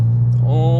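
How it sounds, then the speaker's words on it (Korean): Idle exhaust note of a Mazda MX-5 Miata with a custom aftermarket exhaust, a naturally aspirated four-cylinder, giving a steady low drone that holds evenly through the short moment. "자, 이 배기음 어떻게 생각하세요?"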